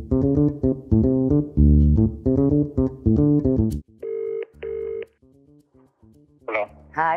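A phone is dialled to place a call: a run of short electronic tone beeps follows a musical tone passage, ending with a brief bright chirp.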